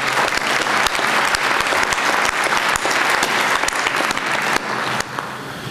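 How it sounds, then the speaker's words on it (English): A town meeting audience in Scituate gives sustained applause, dense and even clapping from a large crowd in a hall that carries on for several seconds, then drops a step and tapers near the end. "If you'd kindly give them a round of applause"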